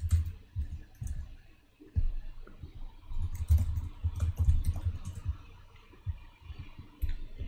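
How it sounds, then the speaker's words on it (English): Slow, uneven typing on a computer keyboard during a Python coding session, soft irregular clicks and key taps close by with brief pauses between bursts. "you could see that I'm typing very slowly"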